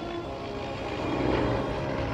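Yak propeller airplanes fly in formation at the Abbotsford International Air Show, a continuous loud engine drone that swells slightly midway, with no talk.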